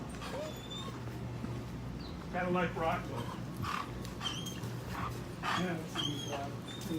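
A dog barks and whimpers with short yips at an outdoor National Night Out community event, the sounds coming in bursts around someone talking nearby.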